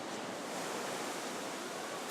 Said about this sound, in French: Des vagues exceptionnelles qui naissent au Portugal